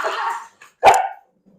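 A dog gives two short, close barks separated by a brief pause.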